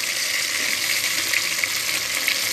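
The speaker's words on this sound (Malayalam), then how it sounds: "ഉലുവ ഒന്ന് കളർ ചേഞ്ച് ചെയ്തതിന് ശേഷം തക്കാളിയും വെണ്ടക്കയും പച്ചമുളകും നമ്മൾ അതിലേക്ക് ഇട്ടു" Tomato, okra and green chili frying in hot coconut oil with fenugreek seeds, a loud, steady sizzling hiss that continues without a break and has no talking over it.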